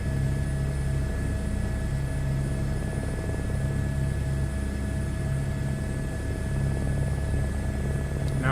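Steady, continuous rotor and turbine drone of an H125 helicopter in a flight simulator game, a constant hum with a low throb and high whine, unbroken and fairly loud.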